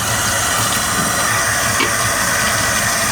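Hot water runs steadily from a tap into a tub, a constant close rushing hiss that holds unbroken throughout with no talking.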